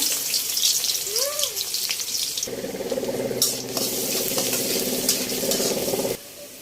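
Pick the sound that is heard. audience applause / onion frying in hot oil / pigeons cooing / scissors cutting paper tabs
onion frying in hot oil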